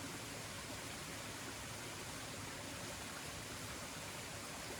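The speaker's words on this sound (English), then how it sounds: "we've got more water running downstream here as well" Stream water rushes steadily downstream on a hiking trail between Pixarells and Pollensa, a constant, even hiss of flowing water with no pauses and no voices.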